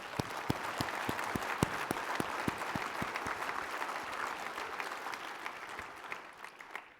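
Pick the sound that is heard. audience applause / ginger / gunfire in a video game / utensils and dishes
audience applause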